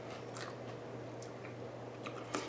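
Someone chews a crunchy beef taco with a crispy shell, giving soft, close biting and mastication sounds over a steady background hum, with a few sharper crunches near the end.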